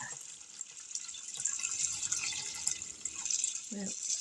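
Tap water runs steadily into a pot while cooking, a continuous hissing splash at close range with a short clatter near the end.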